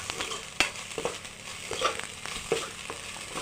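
A spoon stirs spices and grated coconut in a hot pan for papad thoran, giving a steady sizzle broken by several sharp scraping clacks.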